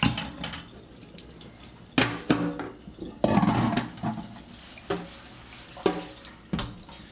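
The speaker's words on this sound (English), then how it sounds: "While this is going, let's turn on the water. Let's wash these dishes." Tap water runs into a kitchen sink during dishwashing, a steady splashing wash broken by several sharper clatters and surges as dishes are handled under the stream.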